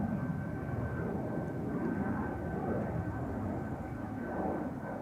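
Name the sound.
United Airlines Boeing 767 taking off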